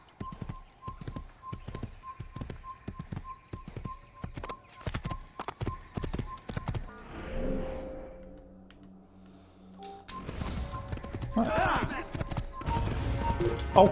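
Horse hooves clip-clop in a quick, steady rhythm in the Assassin's Creed video game, followed by a horse's neigh and more galloping, loud and close, with a player's voice talking over parts of it.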